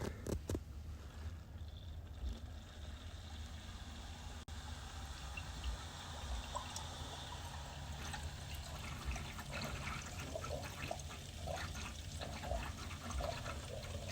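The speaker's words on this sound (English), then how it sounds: "Now we're starting to flush all the air out." Water running through a Mora 420 PRO cooling loop as air is flushed out, a steady low gurgling trickle with scattered bubbling pops, fairly quiet and continuous.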